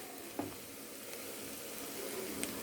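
Amaranth leaves with turmeric sizzle in a pan, a soft continuous frying hiss with a couple of faint clicks of a utensil.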